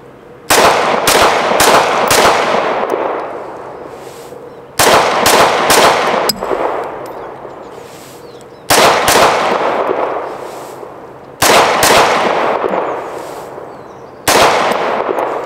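Arex Delta gen.2 X pistol fired in rapid strings of three to four loud, sharp shots, repeated in five bursts with short pauses between, each crack ringing out with echo and no talking.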